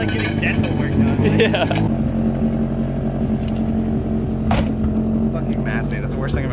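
A car rolling on bare metal wheel rims with no tires, clutch eased out gently, gives a constant loud grinding drone with rattling harmonics, while people talk over it throughout.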